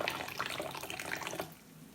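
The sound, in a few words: tea poured from a height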